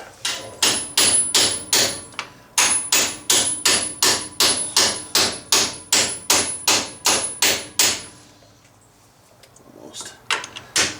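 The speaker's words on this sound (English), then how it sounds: "start pressing this in, or pounding it in with a hammer" A hammer pounds a wheel bearing seal into a Jeep TJ hub in a steady run of about two dozen sharp, loud blows, pausing briefly, then a few more hits.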